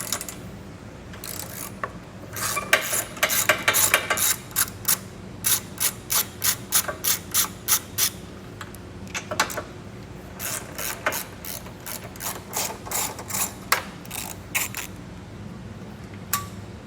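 A hand ratchet clicks in quick repeated bursts while 12 mm and 10 mm bolts are loosened from the impact beam of a 2016 Kia Soul, the rapid pawl ticking near and clear, separated by short pauses.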